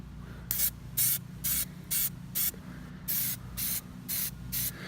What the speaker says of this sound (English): What we're gonna do is kind of just spray it.